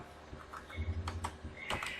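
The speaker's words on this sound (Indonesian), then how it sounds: "baru nama lengkap dia akan mengetik sendiri" Light typing on a computer keyboard, a short burst of scattered key clicks, near and quiet, with no voices.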